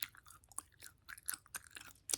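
Gum is chewed right up close in a quiet, soft-spoken ASMR setting, with irregular small wet clicks and smacks spread across a hushed background and no talking.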